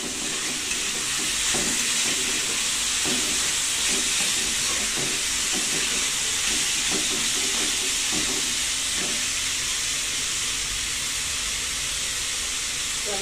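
Vegetables frying in a pan for fried rice, a continuous loud sizzle with occasional soft clicks of stirring throughout, no voices.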